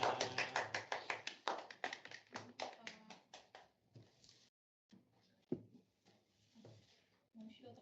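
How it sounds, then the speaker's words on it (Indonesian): A small audience at a book-sharing talk gives faint, quick rhythmic applause that tapers off after a few seconds, followed by quiet room sounds and a voice starting to speak. "Tepuk tangan untuk Aruna"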